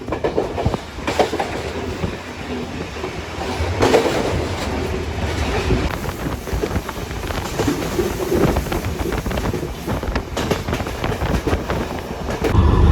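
A train on the Jaffna-Colombo railway rolls into a station, its wheels clattering in a steady clickety-clack over a loud rumble that continues throughout.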